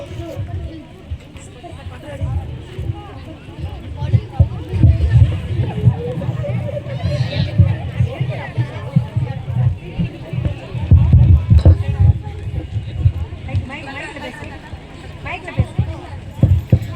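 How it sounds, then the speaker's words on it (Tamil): A crowd of children shouts and chatters at once in a Tamil church skit, making a loud, dense babble of overlapping voices that holds steady for the whole stretch. "வானமும் பூமியும் ஏன் இவ்வளவு கூச்சல் அடிக்கிறீர்கள்?"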